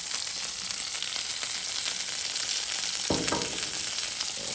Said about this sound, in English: See that butter melting under there?